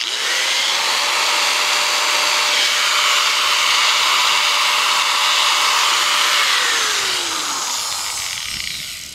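A Bosch angle grinder, just fixed after a faulty switch repair, spins up and runs at a loud steady high-pitched whine for several seconds, then winds down as it is switched off.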